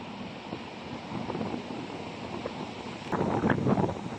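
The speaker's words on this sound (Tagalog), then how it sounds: "malakas po ang hangin. Sobrang lakas." Strong wind blows at a beach resort, a rough buffeting rush across the microphone that swells louder toward the end, with faint surf underneath.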